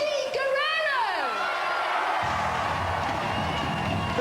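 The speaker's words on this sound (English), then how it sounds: "The crowd on their feet for Eddie Guerrero." Wrestling crowd at a 2002 FWA event in England cheers for Eddie Guerrero, a broad sustained roar with shouts filling the hall, rising and thickening in the second half, with a rising and falling tone sweep early on.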